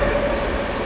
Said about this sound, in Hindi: सुन सकते हो यहाँ पे अभी एक ट्रेन गुजर रही है।